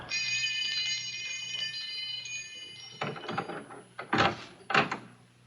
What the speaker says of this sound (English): he looks for, finds, and pulls at a bell.